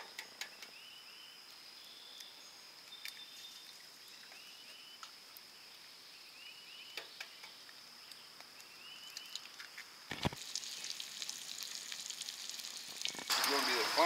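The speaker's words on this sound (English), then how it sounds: "I'm going to pull this back off the heat a little bit so I can get my eggs in and get them started" Eggs frying in a pan over an open fire during a power outage breakfast, a soft steady sizzle with faint crackle that grows louder and harsher toward the end, with some quiet background noise.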